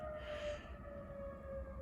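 A firefighter siren wails steadily at night, a faint sustained tone holding at one pitch from a distance over low background noise.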